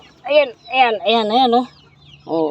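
A hen clucks loudly and close after laying an egg on top of a car engine, a quick series of four throaty, rising calls with short pauses between them.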